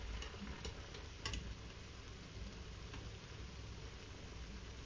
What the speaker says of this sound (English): While the sage is frying